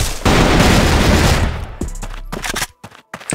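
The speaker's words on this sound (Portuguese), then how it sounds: "E olha como é que ele chega atirando na caixa" In a tactical shooter video game, a player fires at a box: a dense, loud burst of rapid automatic gunfire, then a few sharper single shots with brief gaps.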